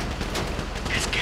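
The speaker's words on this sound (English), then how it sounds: "Listen to the shooting!" Gunfire in a GTA V shootout, quick distant shots crackling under a busy mix of game sound and voices, short and moderately loud.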